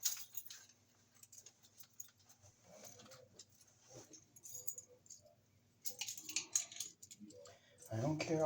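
Tangled bunch of keys jingling in a cellar, scattered bright metallic clinks in bursts across several seconds, fairly faint, with a louder rattle near the end and a voice talking now and then.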